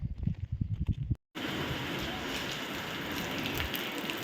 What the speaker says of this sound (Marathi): इथे येऊन टेक पाऊस चालू झालाय